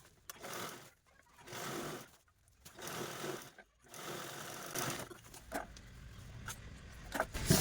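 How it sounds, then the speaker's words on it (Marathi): Sewing machine stitching a fabric shoe organizer made from old clothes, running in bursts of steady mechanical whirring with short pauses between passes, close and fairly quiet. "आपल्याला या पार्टवरती पण दापटीप देऊन घ्यायची"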